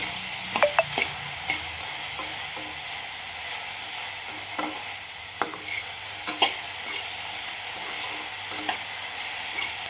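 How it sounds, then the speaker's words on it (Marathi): Salted okra fries in a pan while a spoon stirs it, producing a constant close hiss with scattered clinks and scrapes of the spoon against the pan. "मीठ टाकलं की मग चमच्याच्या साह्याने त्याला व्यवस्थित हलवून घ्यायचं"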